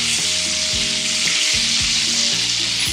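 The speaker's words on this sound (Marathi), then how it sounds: "आलं लसूण पेस्टही छान फ्राय करून घ्यायची बटरमध्ये" Ginger garlic paste frying in melted butter in a pan, a steady loud sizzle throughout with occasional stirring scrapes and no talk.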